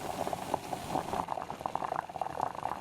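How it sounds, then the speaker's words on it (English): Apple cider with dissolved sugar heating toward a simmer in a pan, faint soft bubbling and gentle liquid blips popping in an irregular patter, quiet and close with no voices. "Bringing the heat up, we'll bring that up to a simmer now"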